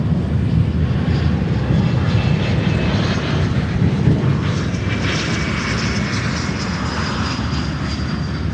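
A Korean Air cargo jet on approach to Chicago O'Hare from Anchorage, its engines a steady, broad roar with a faint high whine, heard from a distance without any voices.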